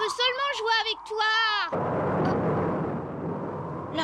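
A rumbling roar of thunder as a storm rises in a French cartoon, a broad, sustained noisy rumble that cuts in abruptly after a child's high-pitched voice and holds steady to the end.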